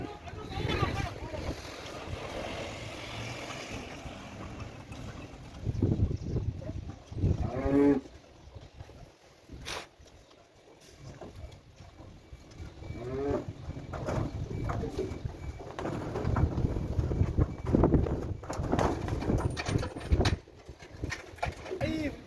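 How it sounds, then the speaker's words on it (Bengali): Cattle moo at a farm while being unloaded from a truck, low drawn-out calls rising now and then over a steady outdoor din with birds, and a voice faint in the background. "দেখেন কত সহজভাবে গাড়ি থেকে গরুগুলো নেমে যাচ্ছে।"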